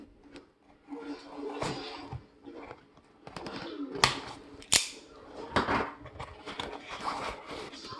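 A taped package holding a Squid Industries Inked balisong is cut open: a run of sharp snips, crinkling tape and plastic rustles, close by and irregular, with a few louder cracks.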